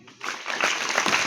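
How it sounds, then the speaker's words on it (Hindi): A short burst of applause from an audience greets a child about to tell a joke on a Haryana joke segment, close and fairly loud, building quickly and holding steady for about a second with no talking. "तालियां"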